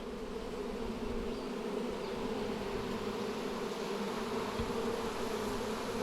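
A steady, dense swarm of honeybees buzzes continuously at close range while being brushed off a comb, an even droning hum with no pauses.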